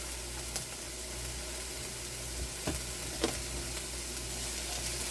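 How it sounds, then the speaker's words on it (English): Minced garlic fries in a hot wok for beef fried rice, giving a steady, close sizzle with a few faint stirring clicks and no voices. "we want to add our garlic and cook that together"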